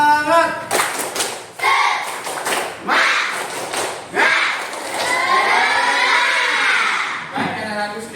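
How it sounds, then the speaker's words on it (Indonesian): A primary school class doing a rhythmic spirit clap, bursts of clapping in a patterned beat alternating with children chanting together, fairly close and loud. "kita tepuk semangat dulu ya"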